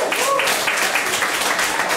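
An audience applauding to welcome a guest onto a Berlin founders talk-show stage, a dense continuous wash of clapping throughout.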